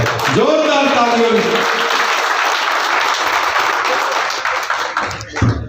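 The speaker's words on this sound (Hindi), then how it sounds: "जोरदार तालियों।" Loud, sustained audience applause at an award ceremony marking a traders' association's fiftieth anniversary in Andheri, with a voice briefly over the start and the clapping thinning out near the end.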